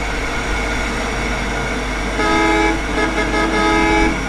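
A train passes in the Bus Truck Simulator Bangladesh video game, a loud continuous rumble of rolling wagons with a horn-like tone that swells toward the end, alone without talk.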